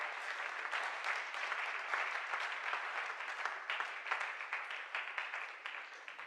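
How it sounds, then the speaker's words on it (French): Sustained crowd applause from a studio audience at a French-language television show's opening prime, dense and steady for several seconds with no talk over it. "Est-ce qu'on peut applaudir les candidats?"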